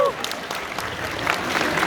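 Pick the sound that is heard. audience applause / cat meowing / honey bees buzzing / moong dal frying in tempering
audience applause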